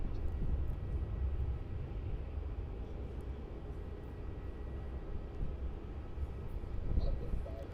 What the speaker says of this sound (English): QF35, the A330-200 now lined up on runway 16